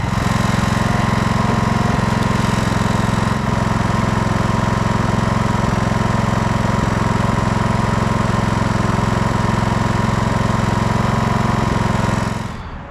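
A lawn tractor engine bought second-hand runs steadily with its mowing deck fitted but no blades underneath, a loud, continuous low drone close by with no talking, then cuts off near the end.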